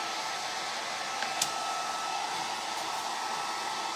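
A hair dryer blows steadily at close range, a constant airy whooshing hum with a couple of faint clicks partway through and no talk.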